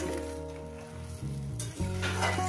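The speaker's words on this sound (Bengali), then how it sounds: "এবার আমি মশলাটাকে সুন্দর করে আমি কষিয়ে নেব মিনিমাম 3 মিনিট" Ground spice paste frying in a pan for a Bengali bata fish curry, a dense sizzle with scraping stirring that brightens and swells toward the end, no talk.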